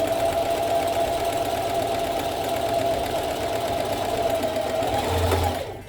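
A sewing machine runs steadily while stitching a seam, a close, even mechanical whir with a fast regular hum that continues for about five seconds before winding down and stopping.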